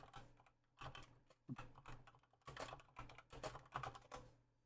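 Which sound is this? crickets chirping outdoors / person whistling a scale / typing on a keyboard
typing on a keyboard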